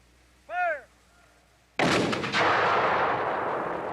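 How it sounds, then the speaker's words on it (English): A Civil War cannon fires once with a sharp, very loud boom that rolls into a long, dense rumble, preceded by a short shouted command. "Once fired, the gun has to be cooled off and cleaned out."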